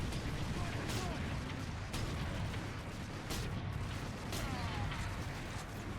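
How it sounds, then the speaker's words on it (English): Stalker Bolt Rifle shots from Warhammer 40,000 Space Marine punch out in a few spaced, booming bursts amid dense battlefield rumble and noise, loud and close. "the Stalker Bolt Rifle feels punchy how it should"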